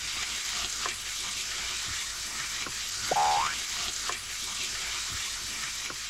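Vegetables stir-fried in a pan: steady bright sizzling throughout, close up, with occasional clicks and scrapes of utensils and a brief squeak midway.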